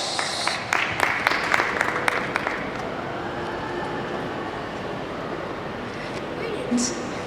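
Teen debate audience applauds as the opposition leader is invited on stage: a short burst of scattered clapping up front that quickly fades into a quieter room murmur.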